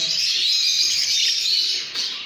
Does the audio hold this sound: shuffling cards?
no